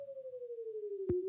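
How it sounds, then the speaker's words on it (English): A small tornado warning siren sounds alone as a single steady electronic tone that slides slowly downward in pitch, pulsing faintly, before a brief sharp click near the end. "you can hear my little siren going off"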